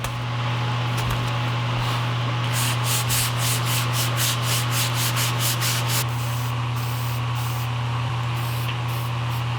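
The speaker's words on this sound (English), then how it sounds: "always sanding with the grain" Steady rubbing strokes of sandpaper working along the grain of a small wooden pencil holder, a hand-sanding job close by, with a continuous low hum running underneath throughout.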